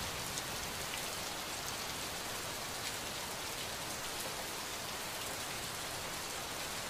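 Steady rain falls across the scene in the video game Gemini Rue, a dense, even hiss of drops on surfaces that holds constant throughout with no voices.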